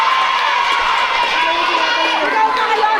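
Basketball league game crowd shouting and cheering in a gym, a dense continuous roar of many voices at steady loudness with an announcer talking over it.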